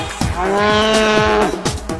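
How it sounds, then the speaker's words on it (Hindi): A cow gives one long, loud, close moo that holds steady before trailing off. "गाय भैंस रंभाती है,"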